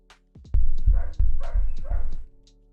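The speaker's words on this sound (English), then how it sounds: "Dog is barking at the kids." A dog barks at children in a rapid burst of sharp, close barks, about a dozen in quick succession, loud and clear with no talking.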